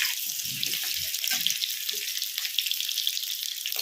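Medium-sized potatoes frying in oil in a pan, a steady, loud sizzle throughout with a few low clunks early on, no talk.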